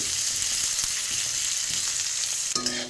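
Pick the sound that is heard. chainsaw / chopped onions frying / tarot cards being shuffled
chopped onions frying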